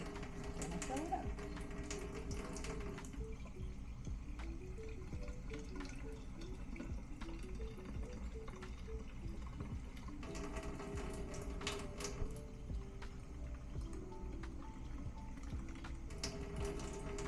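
Tap water runs steadily into a bottle at a sink, a continuous rushing stream with a slight rising tone as it fills, heard close and fairly quiet.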